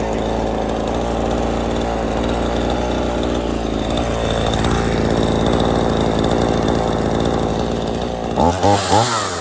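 A chainsaw near a chicken pen cuts a bottom piece of wood, a loud continuous engine snarl held steady under load, then a few quick revving bursts at the end.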